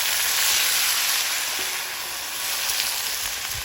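Garlic, black cumin and onion fry in oil in a pan, giving a loud, steady sizzle that hisses evenly throughout with no talk over it.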